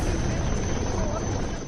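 Rescue helicopter hovering over flooded homes in Gujarat during the 2022 floods, a loud continuous rotor and engine roar with a steady high whine, with a voice speaking underneath.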